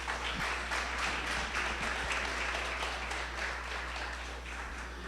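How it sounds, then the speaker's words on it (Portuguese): A church congregation applauds guests at an inauguration service, a sustained, even roar of many clapping hands in a large room over a low mains hum. "Palmas para ele, gente."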